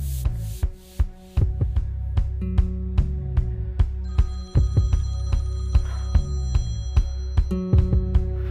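A telephone rings in a Bollywood action film scene, its repeated electronic tones sounding in a steady pattern amid sharp percussive hits and music, loud and close.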